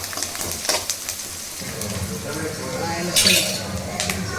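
Turmeric crackles and sizzles in hot oil while a Rayalaseema-style amaranth leaf tempering cooks in a pan. The hiss is steady and close, with a stirring clink and a sharper burst of sizzle near the end.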